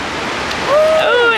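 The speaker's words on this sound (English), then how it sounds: "Oh, and there goes some water, washing our shells." Water rushes up and fizzes across a Florida beach shoreline over shells in a short, close wash, with a faint high tone rising near the end.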